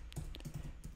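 Fingers tap quickly on a computer keyboard, a brief run of soft, close keystrokes over faint room noise.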